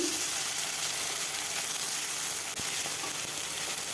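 Chopped tomato fries in a pan with mustard-poppy seed paste for a pomfret fish dish, giving a steady, close hiss of sizzling oil that carries on evenly throughout.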